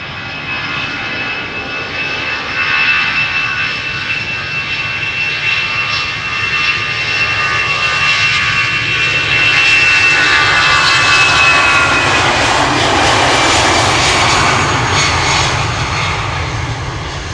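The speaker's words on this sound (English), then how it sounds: "It is an A319 from EasyJet" At Amsterdam Schiphol Airport, an EasyJet Airbus A319 departs with a sustained jet-engine roar and a high whine on top, building in loudness over the second half and staying strong, heard alone without voices.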